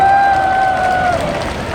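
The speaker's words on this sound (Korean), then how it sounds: "다시 한번 큰 박수를 부탁드립니다" Audience applause at a Korean War 67th anniversary commemoration ceremony, a steady wash of clapping that fades slightly toward the end, with a sustained electronic tone over the first part.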